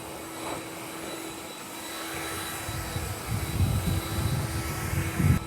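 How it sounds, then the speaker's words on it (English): A blower scatters sawdust around a freshly cut-down tree, a steady whooshing roar that rises in strength toward the end, close and fairly loud, with no voices. "I'll blow this sawdust a little bit, see if I can scatter it."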